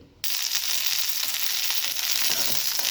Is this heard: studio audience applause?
no